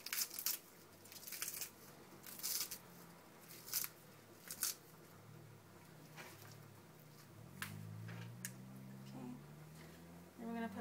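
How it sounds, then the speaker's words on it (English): Kale leaves are torn by hand into bite-sized pieces, giving a series of quiet, irregular crisp snaps and crunches close by, with brief gaps between tears and a soft background hum. "what I'm going to do with the kale is I'm just going to break it up in bite-sized pieces"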